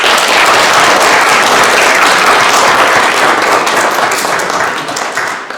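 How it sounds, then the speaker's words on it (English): A room audience gives loud, sustained applause for speech tournament contestants, dense clapping holding steady before easing slightly toward the end. "So let's give them all a round of applause."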